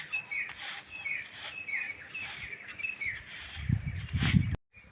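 Sparrows chirp outdoors in the morning, a series of quick, bright repeated calls close by over light background noise, with a brief thump near the end.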